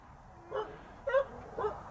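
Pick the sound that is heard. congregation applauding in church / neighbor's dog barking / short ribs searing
neighbor's dog barking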